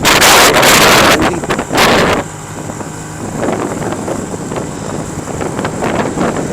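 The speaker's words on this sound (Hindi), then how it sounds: "लेकिन यहाँ पे हवा मुनासिब ही है लेकिन बस मुनासिब है।" Wind roars loudly across the microphone of a motorbike riding at night on the road from Sheikhupura to Faisalabad, with a heavy buffeting burst at first that drops to a steadier rushing hiss as the bike speeds along.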